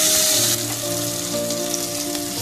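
Dates and raisins fry in a pan for sweet vermicelli sheer khurma, giving a steady, close sizzle with a soft crackle and no talk.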